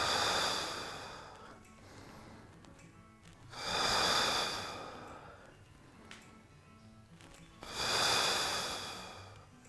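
A person inhales deeply during a fitness exercise, three long, loud breaths spaced evenly, each swelling and fading, close and clear, with only faint background noise between them.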